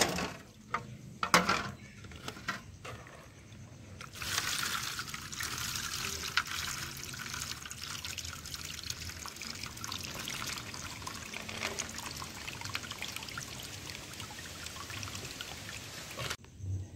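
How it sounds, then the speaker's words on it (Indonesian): Corn kernels that have soaked for 24 hours are rinsed under running water until the water runs clear, a steady close splashing and trickling flow with a few knocks of handling near the start. "Kita cuci sampai benar-benar nyampe jernih."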